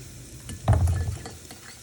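Panko breadcrumbs being stirred into melted butter in a bowl: a brief, close gritty scraping swirl that rises suddenly and then fades out, with no one talking.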